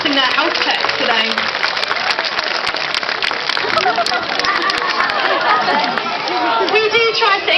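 A zoo audience at a Blackpool sea lion show claps steadily and loudly for the sea lions, a dense continuous patter of many hands with crowd murmur and voices mixed in throughout.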